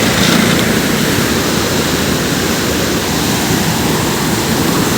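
Fast-flowing water rushes loudly and continuously through a deep canal, a dense, steady roar close by with no voices.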